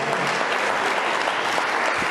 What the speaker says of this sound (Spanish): ¿Cuánto le damos un aplauso al Eterno?